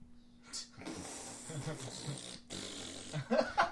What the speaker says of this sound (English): I hope the mics picked up that farting noise that you just made